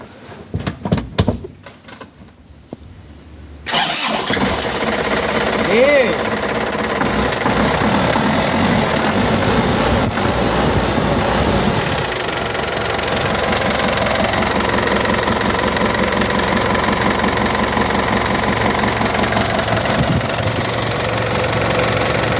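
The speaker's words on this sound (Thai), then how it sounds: "สตาร์ทเครื่องยนต์นะครับ" A few clicks and jangles, then a car engine cranks and catches, settling into a steady, loud idle that rumbles on without a break.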